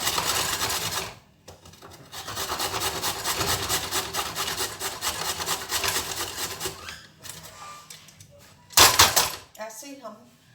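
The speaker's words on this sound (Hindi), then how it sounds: "ऐसे ही हम 1 किलो गाजर को ऐसे ही हमने कद्दूकस कर लिया है।" Carrots rasp steadily against a kitchen grater in long, loud scraping strokes, continuing with brief pauses and a sharper burst near the end.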